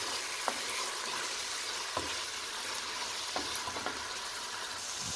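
Tomatoes simmer and sizzle in a pan for restaurant-style momos chutney, a steady soft frying hiss with a few faint clicks of a spoon against the pan, no voices.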